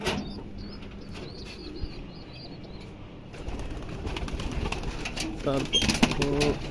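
Pigeons kept in a loft coo softly in short repeated phrases, followed by rustling and wing flaps as two pairs are released, with a person talking over the birds.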